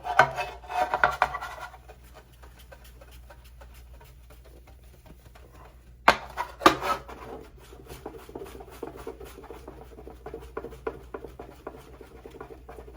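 Plastic hand-polished with Novus polish in circular motions: bursts of close, dry rubbing and scrubbing, strong at the start and again after a pause, then lighter rhythmic wiping strokes over a faint hum.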